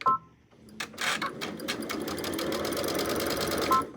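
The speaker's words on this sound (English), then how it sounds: "I'm going to back stitch over this just a little bit." Sewing machine back stitching a sundress, a close rapid mechanical whir with clicking needle strokes starting after a short pause and running steadily to the end.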